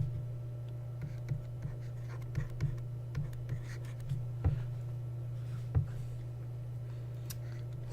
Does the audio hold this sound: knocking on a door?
no